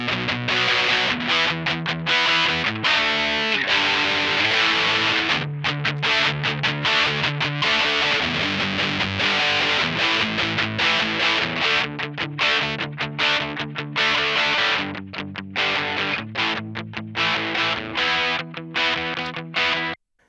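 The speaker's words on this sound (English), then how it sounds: "Let's enable the black distortion and hear what that sounds like." An electric guitar runs through the Nembrini Audio Black Distortion Rat plugin, playing loud, gritty distorted chords and riffs in choppy rhythmic bursts for about twenty seconds, with no talking.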